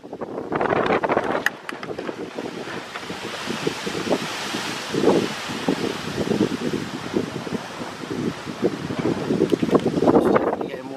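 Strong gusting wind above 40 mph roars past a homemade axial flux wind turbine, a loud rushing buffeting that swells and fades with the gusts, with heavy wind noise across the microphone.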